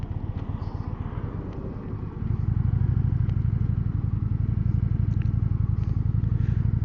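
An Indian Roadmaster motorcycle engine runs with a steady low throbbing rumble that grows louder and fuller partway through, as if accelerating while riding, with light mechanical clatter on top.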